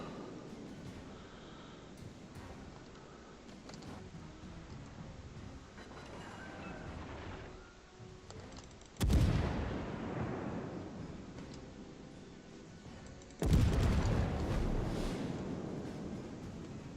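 Naval artillery shells come in during a World of Warships battle with the cruiser Saint Louis: two heavy, booming impacts crash out seconds apart over a low, rumbling backdrop, each fading slowly.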